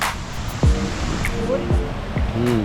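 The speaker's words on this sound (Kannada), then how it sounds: "ಇಲ್ಲೇ ನೀರಿನ ಶಬ್ದ ಕೇಳ್ತಾ ಇದೆ ಜೋರಾಗಿ" Rushing water at Abbi Falls forms a steady broad roar under a voice speaking nearby, the flow continuous and fairly loud throughout.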